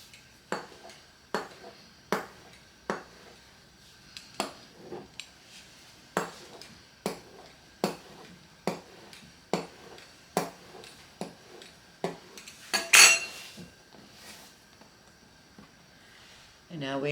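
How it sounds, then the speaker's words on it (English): Pizza cutter rolling through homemade egg noodle dough on a board, a steady series of sharp, evenly spaced taps and clicks, fairly close and moderate in level, with a louder clatter near the end. "I'm going to show you 2 ways to cut this. First one is just using a pizza cutter."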